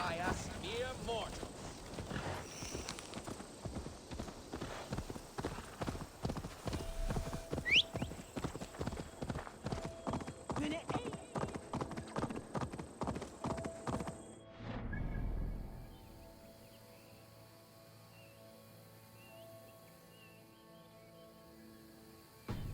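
Horse hooves gallop in a rapid steady clip-clop rhythm in Assassin's Creed Valhalla, loud and close under game music, with a whinny, before the hoofbeats stop abruptly and only quiet ambience remains.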